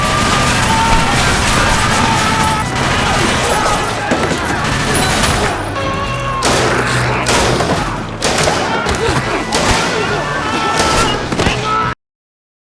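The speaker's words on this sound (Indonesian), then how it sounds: "Desmond menembaki musuh dengan semua senjata" Film gunfire fills an action scene as enemies are shot at from a moving trolley with museum weapons: loud, dense volleys of shots and heavy thuds run continuously, then cut off abruptly.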